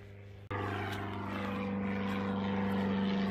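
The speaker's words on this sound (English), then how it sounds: "I've got a plane, Mr. Aeroplane." A propeller aeroplane drones steadily overhead on a hillside hike, its engine hum starting abruptly loud and holding a constant, slightly rising tone throughout.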